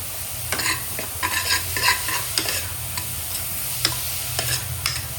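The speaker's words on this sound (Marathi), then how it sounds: "त्यानंतर हे जे मशरूमचे कट पीसेस आहे हे आपण टाकणार आहे." Cut mushroom pieces sizzle and fry in a pan for soup while a spoon stirs them in repeated scraping strokes, the crackle steady and close with no talking.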